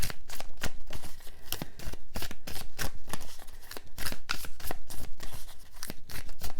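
Tarot cards being shuffled by hand, a rapid run of crisp papery flicks and riffles repeating steadily and close, with no voices.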